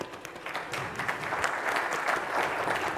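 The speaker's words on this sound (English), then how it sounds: "let me clap for all of those who've made it despite Delhi traffic" Steady applause from an audience at a morning session of an energy industry conference in Delhi, a dense, even wash of clapping filling the whole moment without voices.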